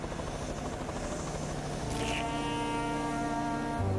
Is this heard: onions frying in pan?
no